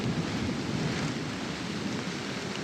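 Heavy rain pours on a palm-lined beach while a rough sea surges in the background, making a constant loud broadband roar with no voices.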